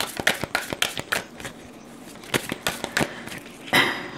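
Oracle Fontaine cards being shuffled by hand, a quick run of crisp, close riffling flicks in short bursts with brief pauses between.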